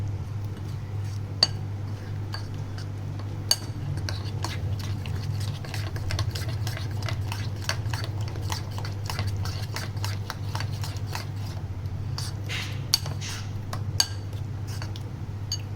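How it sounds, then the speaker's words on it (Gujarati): Gram flour, sour yogurt and water being stirred into dhokla batter in a bowl: soft, scattered spoon clinks and light taps, faint over a steady low hum. "બરાબર મિક્સ કરી ઢોકળાનું બેટર બનાવી લેશું."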